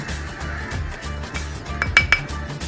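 A spoon stirs creamy fruit chaat with salt, chaat masala and black pepper in a bowl, making scattered light clinks and scrapes over a faint low hum, with the sharpest clinks near the end.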